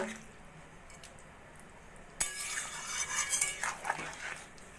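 A spoon clinks and scrapes in a pot of potato and pointed gourd curry as a spoonful of ghee is worked in: a quiet lull, then a sudden metallic knock and a few seconds of busy, close stirring.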